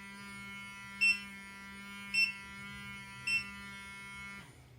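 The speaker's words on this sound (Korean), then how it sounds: "이렇게 특정 시간이 지나면 삐삐삐 3번 울리고 이렇게 자동으로 꺼져서" Three short, evenly spaced electronic beeps from a facial beauty device ring out over its steady hum before the unit shuts itself off and falls quiet.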